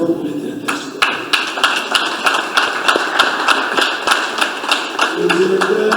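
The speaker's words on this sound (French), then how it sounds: "je voulais vraiment vous demander tous d'applaudir très fort pour les directeurs" A live audience applauds for the directors at a concert event, dense clapping with sharp sharp claps running steadily throughout, moderately loud and sustained with no speech over it.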